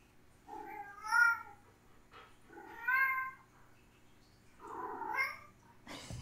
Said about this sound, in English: Want to listen to a box of happily purring cats?